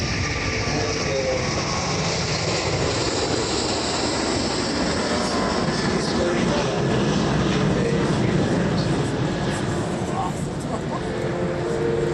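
An aircraft at the 2013 Le Bourget air show gives a continuous, loud, broad engine roar that lasts throughout, while someone talks over it.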